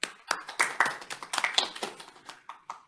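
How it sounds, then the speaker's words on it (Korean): Small audience at a seminar clapping for three panelists, a handful of scattered, sparse claps with distinct individual hits rather than a dense roar. "세 분에게 큰 박수를 일단 맞이해 주시기 바랍니다"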